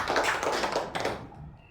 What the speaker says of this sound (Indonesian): tepuk tangan untuk Ibu Oki